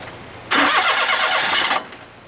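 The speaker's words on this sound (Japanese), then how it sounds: "これで多分エンジンかけてもらって大丈夫だと思うんですけど" A car used for car-camping at a campground cranks and fires up, giving a loud roaring burst of just over a second before quickly settling away, with no talking.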